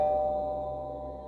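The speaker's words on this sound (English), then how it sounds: "The doorbell chimed." A doorbell chimes once at moderate volume, a clear sustained bell tone ringing out and slowly fading over a low room hum, with no voices.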